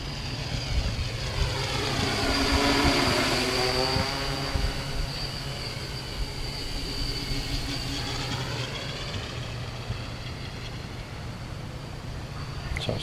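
A 10-inch quadcopter drone flies past with a buzzing propeller whine that rises and falls in pitch as it sweeps near and away, loud at first and then fading to a steadier hum.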